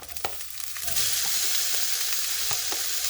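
Onion sauteing in two tablespoons of sunflower oil, a steady close hiss and crackle of frying that swells after a moment into a dense, continuous sizzle with a few soft clicks of stirring.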